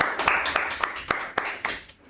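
A small audience claps for people discussed on a talk programme, a handful of distinct, fairly close claps in an uneven rhythm that taper off within about two seconds.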